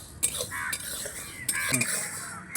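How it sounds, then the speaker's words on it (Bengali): Sago pearls are stirred in a pan over low heat, a spoon scraping and clinking against the metal in a few irregular, close strokes with faint sizzling underneath. "সাবুদানাটা উনুনের আঁচটা হালকা রেখে এক মিনিট মতো নাড়াচাড়া করে নেব"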